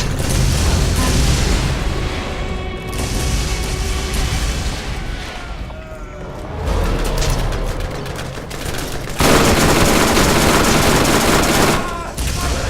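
Sustained gunfire in the video game Borderlands, near and loud, dense bursts and rattling shots with booms running nearly the whole time, swelling to a heavy barrage near the end.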